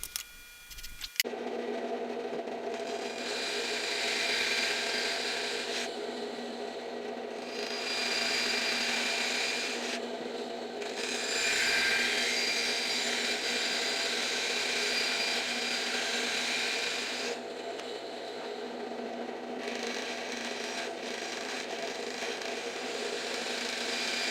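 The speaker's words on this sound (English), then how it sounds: "while I'm doing every woodworker's favorite thing to do, sanding" Steady power-tool whir of sanding wood, a continuous buzzing drone with a brief pause at the start and slight surges and dips throughout; no talking.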